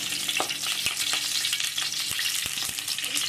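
Oil sizzling steadily in a pan with curry leaves for a drumstick leaf (nugge soppu) stir-fry, a close, continuous crackling hiss broken by a few sharp pops, with no voices.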